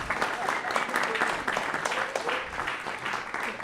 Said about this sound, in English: So a big round of applause to Gwen Ansell.